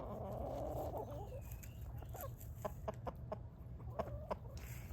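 Chickens cluck faintly and sporadically at a distance over a low steady background hum.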